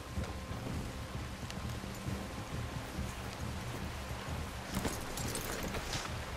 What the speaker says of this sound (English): We leave our horses by the bridge,